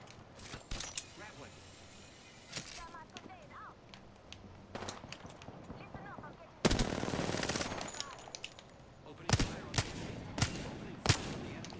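Gunfire in a video game rings out in repeated automatic bursts, with a loud, sustained volley midway and sharp single shots near the end, while players talk over it.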